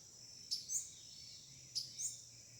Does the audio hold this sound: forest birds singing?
yes